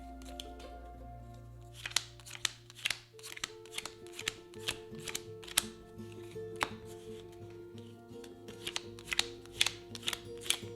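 A deck of Wingspan board game cards is riffled and shuffled in a run of crisp, rapid flutters and taps, close and fairly quiet, with no talk.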